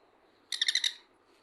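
A baby sun conure chirps in a brief burst of rapid, high-pitched squeaky calls, close and fairly loud, during hand feeding, with quiet room background on either side.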